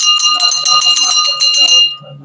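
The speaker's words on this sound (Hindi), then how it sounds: "और यहाँ भी छोटी सी घंटी है," A small temple bell at a Bhairav Baba shrine rings in rapid repeated strikes, bright and close, then stops as a voice is heard.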